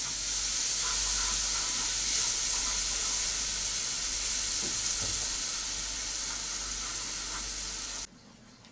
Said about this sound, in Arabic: تنزيد عليها الحليب شويه بشويه